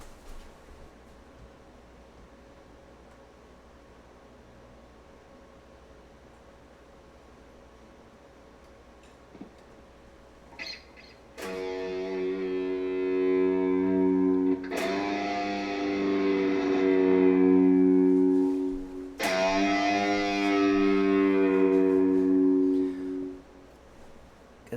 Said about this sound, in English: we're going to use the electric guitar on this, using the wireless system and amp